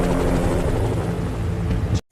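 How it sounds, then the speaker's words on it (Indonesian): A helicopter arrives for an evacuation in a zombie-outbreak drama set in Seoul, its steady rotor roar loud and continuous before cutting off abruptly at the end. "helikopter akhirnya tiba dan langsung membawa mereka ke tempat pengungsian."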